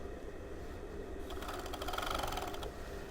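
Overlocker stitching a sleeve seam on a blouse, heard as a quiet, rapid mechanical whirring chatter starting partway through and running for a little over a second before stopping.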